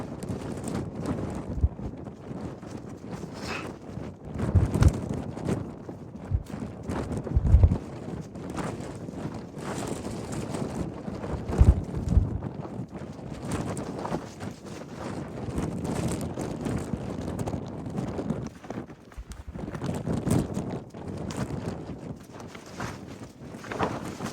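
Strong wind buffets the microphone on the Mount Washington summit, a continuous roaring rush with gusty surges and occasional thumps throughout.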